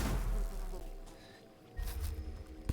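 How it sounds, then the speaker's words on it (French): Flies buzzing in the video game The Chant, a steady insect drone with a louder swell near the end, heard alone without talk. "les mouches elles m'ont piqué."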